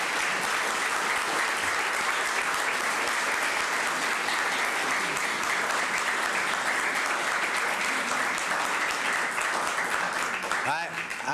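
A government audience in Arkansas applauds the state legislature, a loud sustained burst of clapping heard on its own, with a voice beginning only at the very end.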